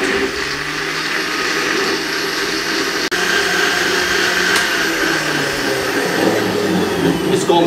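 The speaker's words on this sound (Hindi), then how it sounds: "इसको हमने 2 मिनट अच्छे तरीके से ग्राइंड किया हैवी जूसर मशीन पे।" A heavy juicer machine grinds a weight-loss drink, a loud, steady whirring motor drone that runs continuously, close up and alone, with one brief break partway through.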